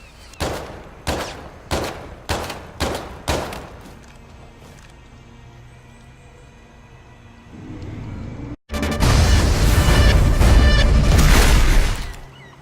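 Trencher SMG gunfire in Infinite Warfare: several sharp, rhythmic bursts of shots up close, a quieter lull with lingering tail, then a loud dense rush of sustained fire and noise before cutting off.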